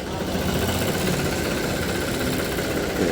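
A 5310 tractor engine runs at a tractor market, with a dense, steady diesel rumble and rapid knocking close by throughout.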